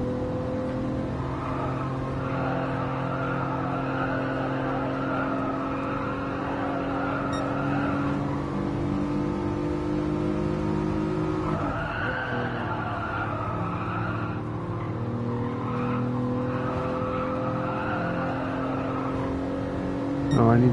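Race car engines drone continuously in a racing video game, a loud sustained whine with shifting pitch and occasional tire skids and squeals, running without pause for about twenty seconds.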